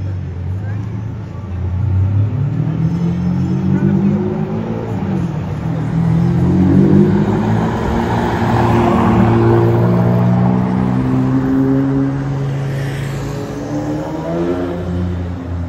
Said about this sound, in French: j'entends un V12 tout au loin là-bas, derrière la Peugeot